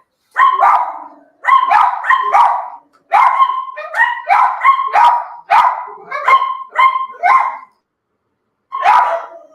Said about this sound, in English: Oh my goodness, these dogs.